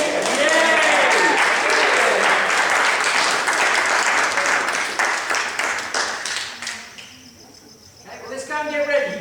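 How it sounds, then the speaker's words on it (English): Applause from a theatre audience and cast after a dress run of a pantomime, Dick Whittington and his Cat, a dense sustained clapping crowd that thins out and fades before a brief renewed burst at the end. "Can we also please have a round of applause for Mary?"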